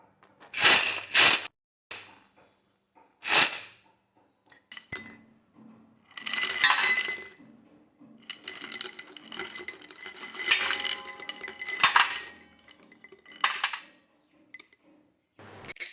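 Dried taro pieces are poured out in bursts, giving hard, brittle rattling and clinking clatters, close and loud, separated by short pauses.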